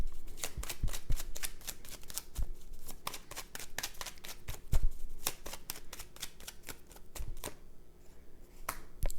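Tarot cards being shuffled and pulled from a deck, a steady run of crisp riffling snaps and flicks close by, with no talking.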